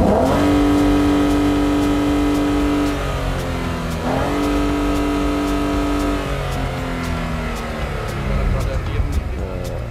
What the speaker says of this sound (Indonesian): Ini dalam keadaan diem, kita gas